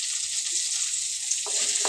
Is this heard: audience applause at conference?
no